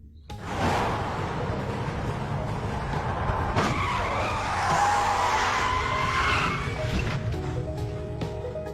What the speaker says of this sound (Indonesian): Brian langsung freestyle untuk menghentikan mobil tersebut